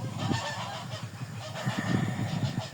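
Loud, hoarse calls of an adult Muscovy drake repeat in a steady stream of short bursts, close by, with no talking.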